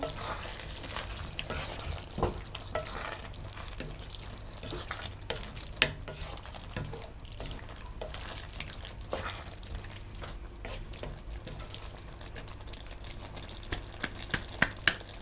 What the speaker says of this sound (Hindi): लेमन जूस आप मिक्स कर लें अच्छी तरह से